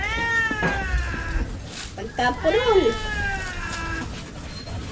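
A cat meows several times close by, drawn-out and rising then falling, mixed in among people chatting outdoors.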